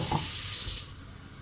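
Water runs hard from a kitchen tap into a bowl while pide dough is being made, then cuts off sharply after about a second, leaving near silence.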